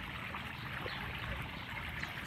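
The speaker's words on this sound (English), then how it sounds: "This is a Pondless waterfall that we built" A pondless garden waterfall gives a soft, continuous trickle and splash of running water, steady and fairly quiet with no voices.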